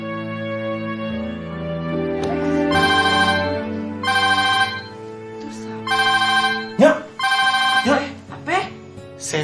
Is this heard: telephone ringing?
yes